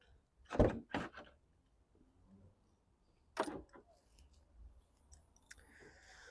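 Front trunk of a 2014 Tesla Model S being opened, heard as a couple of sharp mechanical clicks and a latch release with a light rustle, close by and otherwise quiet.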